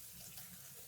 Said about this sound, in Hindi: तकरीबन मैं इसके अंदर 1 लीटर पानी डालूंगी।